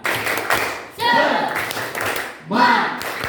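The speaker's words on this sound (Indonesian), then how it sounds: "Ayo kita tepuk semangat dulu." Schoolchildren in a classroom clap together in a rhythmic spirit-clapping chant, bursts of hand claps mixed with voices shouting in unison, repeating in two waves.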